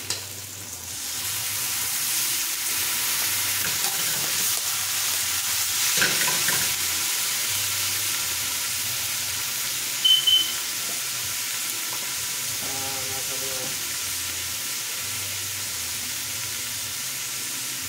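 Sautéed beef tripe with mixed vegetables sizzling in a pan after a splash of liquid goes in, a steady loud frying hiss with occasional stirring clatter and no talking.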